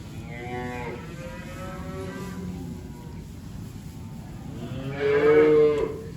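Cattle lowing inside a Quonset barn during feeding, several drawn-out moos at moderate distance with a louder, closer moo near the end over a steady indoor background.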